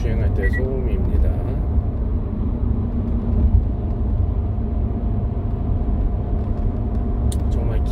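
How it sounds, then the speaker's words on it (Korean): Steady broadband road roar from four-and-a-half-year-old Kumho KH25 tires on a car cruising at 70 km/h, a continuous loud low rumble that holds evenly throughout with no talk. "70km 주행할 때 소음입니다."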